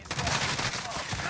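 Rapid gunfire bursts in a Call of Duty match, loud dense crackling shots packed tightly together over a brief moment.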